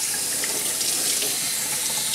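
Steady running water from a tap or sprayer pours continuously during a Yorkshire Terrier's bath, a bright, even splashing hiss with no voices.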